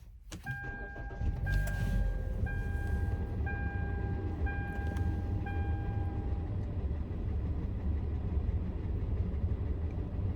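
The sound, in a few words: van engine starting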